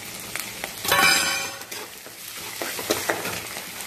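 Green chillies and curry leaves hit hot oil with fried dals in a pan for rice flour moong dal upma, giving a sudden loud sizzle that settles into softer frying, with stirring and light scraping.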